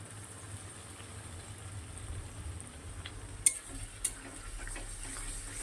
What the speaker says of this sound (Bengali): মশলাটা খুব ভালো করে কষাতে হবে।